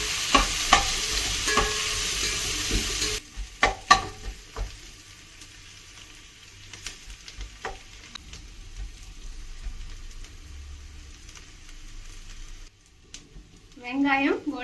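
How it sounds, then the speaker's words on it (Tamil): Onions sautéing in oil and being stirred in a pan for mutton biryani, a busy sizzle at first, then quieter frying with scattered stirring clinks and scrapes, close by. "நல்லா வதக்குங்க."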